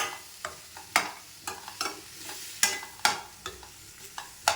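Guava pieces sautéing in a hot pan for guava chutney, with a spatula scraping and stirring in irregular strokes over a soft sizzle, close up and without speech.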